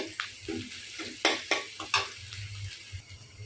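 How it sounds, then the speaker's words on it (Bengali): Bitter gourd frying in a pan, a soft sizzle broken by several sharp scraping and clattering strokes of a utensil against the pan, close and fairly loud. "এখন আমি করলাটা বেজে নিচ্ছি"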